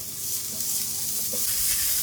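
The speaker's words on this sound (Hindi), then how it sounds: "प्याज भी हम हल्के से 3 से 4 मिनट फ्राई कर लेंगे।" Finely chopped onions frying in a pan for stuffed bitter gourd, a continuous hissing sizzle that swells louder toward the end, with faint stirring underneath and no speech.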